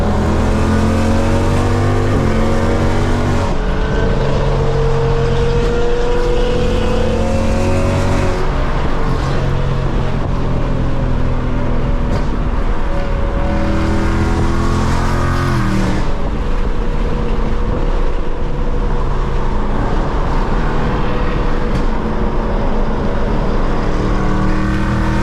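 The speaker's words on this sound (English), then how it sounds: "This thing sounds insane, and I now have an active exhaust on my non-active base model" A 2024 Mustang GT base model with a full aftermarket active exhaust revs loudly and repeatedly, the engine note rising and dropping in bursts with a roaring, rumbling tone close by.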